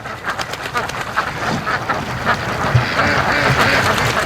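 A group of ducks behind bulrushes quacks in a frenzied, overlapping chorus during mating, steady and fairly close, with a little outdoor ambience.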